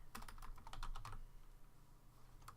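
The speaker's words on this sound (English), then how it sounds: "we're going to type in at the bottom here, File History" Rapid keystrokes on a computer keyboard while typing into the Windows 10 Start menu search: a dense burst of clicky taps for about a second, a pause, then one last tap, close and clear with no talking.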